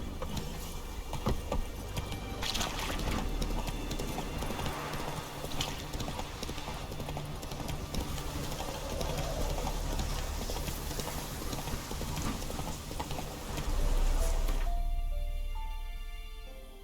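Hooves of Roach, the horse in the video game The Witcher 3, clip-clopping in a steady rhythmic gait for a long stretch before cutting off near the end.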